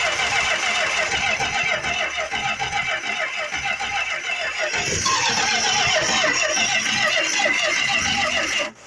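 A 1965 Plymouth Barracuda engine with a faulty choke cranking on its starter: a steady rhythmic whirring that shifts midway as the engine catches and runs rough, then cuts off at the end, with voices faintly underneath.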